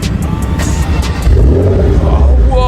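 A Porsche Cayenne S V8 engine turns over and settles into a deep, loud rumble that swells as it revs, close by with no talking.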